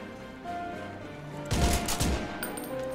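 Bursts of gunfire from a Korean first-person shooter game with manual reload control, a dense volley of rapid shots erupting after a quieter stretch, loud and close, with no talking.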